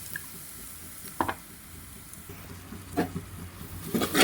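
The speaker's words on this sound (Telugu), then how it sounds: "ఇందులో మనం ముందుగా గ్రైండ్ చేసి పెట్టుకున్న రసం మసాలా అయితే వేసుకోవాలి." Ground rasam masala hitting hot oil in a pan gives a soft, steady sizzle, broken by a few louder scraping stirs near the start and end.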